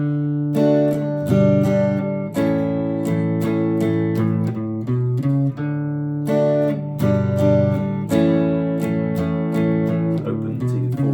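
Acoustic guitar strums the chords of a song with an added bass-line run, steady rhythmic strokes with plucked low-note fills between chords, played close and alone without talk.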